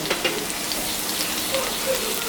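Ginger, onion paste, garlic paste and chilli hit hot oil in a pan, a short burst of close, crackling sizzle with light spattering pops.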